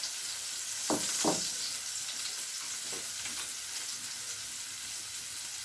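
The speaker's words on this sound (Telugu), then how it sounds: "ఆయిల్ వేడెక్కిపోయిందండి పచ్చిమిర్చి ఉల్లిపాయ ముక్కలు వేసుకుందామండి" Green chillies and onion pieces fry in hot oil with a steady sizzling hiss, broken early on by a few sharp bursts as the pieces hit the pan, close and fairly quiet with no talking.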